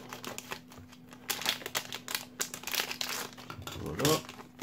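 Plastic packaging of RGB LED parts crinkles and rustles in bursts as it is unwrapped close by, with a steady electrical hum underneath and a louder crackle near the end.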